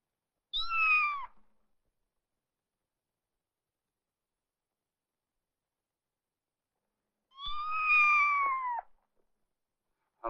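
Two drawn-out cat meows, a few seconds apart, close and clear with silence between them.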